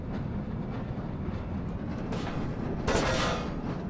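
A train moves through the Black Mesa video game with a continuous low rumble and rolling clatter, and a brighter metallic rush swells briefly near the end.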